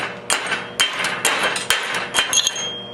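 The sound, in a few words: hammer chipping slag off 6013 stick weld bead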